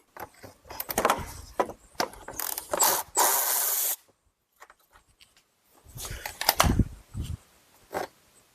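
A hand ratchet spins off a 13 mm bolt holding the power steering reservoir on a Chrysler Town and Country, close and loud, with bursts of rapid clicking separated by short pauses and a brief silent stretch midway.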